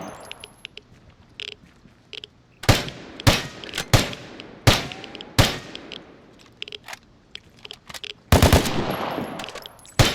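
Enemy gunfire in the video game Vigor, likely from an RPK light machine gun: a series of sharp, loud shot bursts at an uneven rhythm, ending in a dense rapid volley near the end.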